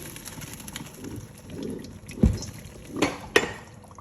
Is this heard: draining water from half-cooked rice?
yes